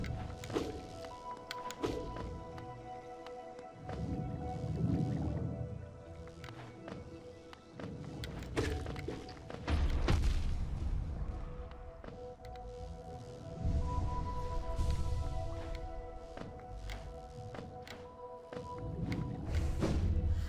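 Things explode in the Fog Canyon area of the Hollow Knight video game: soft, muffled low thumps and bursts recur every few seconds over a steady bed of game ambience, with no talking.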